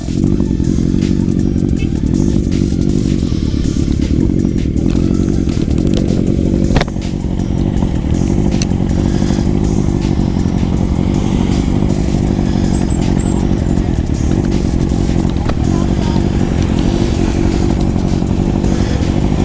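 A motorcycle engine runs loud and constant throughout, a steady close drone with road rumble and a brief clatter partway through.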